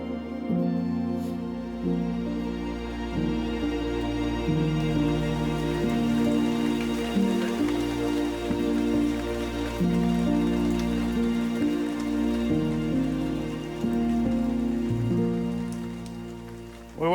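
Steady rain falls on a surface through an afternoon, a continuous close patter and hiss with no voices, over a low tonal hum that shifts in pitch.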